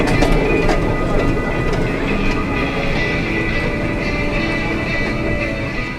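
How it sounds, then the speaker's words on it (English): The Rio Grande park train rumbles along at Paultons Park, a steady loud roar with clattering wheels and wind noise throughout. "just a little bit of footage there then of the Rio Grande train here at the park"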